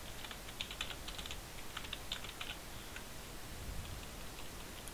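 Quiet, close typing on a computer keyboard, light irregular clicks in short bursts over a soft background hiss, with no voice.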